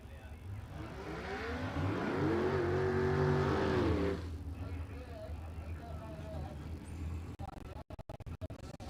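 Front-engine dragsters, one with a six-cylinder and one with a 427 cubic inch Ford V8, rev at a drag strip, rising to a loud rumbling peak before dropping to a lower idle under announcer commentary.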